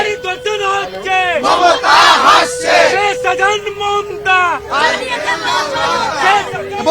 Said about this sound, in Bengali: বারবার স্লোগানিং চলছেন বিজেপি কর্মী সমর্থকরা